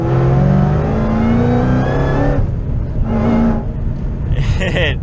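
A 787 wheel-horsepower Shelby GT500 accelerates hard under boost, its engine note climbing through the gears with loud, close revving from inside the cabin and a short shift break partway through.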